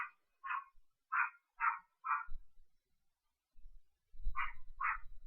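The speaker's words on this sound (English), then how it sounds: "I think you may or may not be hearing a dog barking right now" A dog barks in a series of sharp, mid-distance barks, five in quick succession, a pause, then two more, with faint low thumps and no talk.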